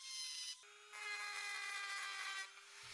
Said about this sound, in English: I'm using a die grinding bit to smooth everything out apart from the original welds